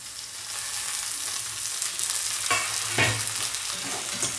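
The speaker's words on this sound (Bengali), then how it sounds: "এবার আলু আর মাছের মাথাটা দিয়ে দেব।" Potatoes and a fish head hit hot oil in a pan, giving a steady loud sizzle and frying hiss with a couple of stirring scrapes partway through, and no voices.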